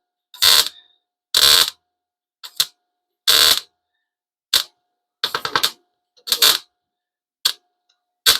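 A welder tacking a metal patch in place gives a string of sharp, loud crackling bursts, each lasting under a second, spaced irregularly with silence between them.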